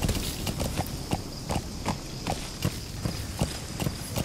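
Horse hooves clip-clopping in the video game Metal Gear Solid V, a steady, fairly quick rhythm of close hoofbeats on hard ground with a continuous ambient rumble underneath and no talk.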